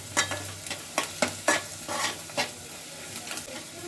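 Egg curry with coriander powder and garam masala is stirred in a pan on the stove, with a soft sizzle under a run of rhythmic scrapes and taps from the spoon, close by and fairly quiet.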